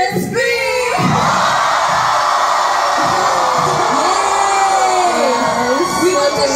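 A large concert crowd at a K-pop tour show screams and cheers together in a loud, sustained roar with whoops and yells, filling the whole stretch without pause.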